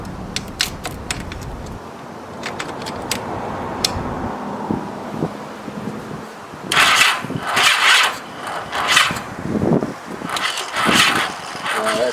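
A faulty starter motor on a 1985 Honda Gold Wing 1200cc motorcycle produces rapid clicking, then rough, grinding cranking bursts. A person talks over it.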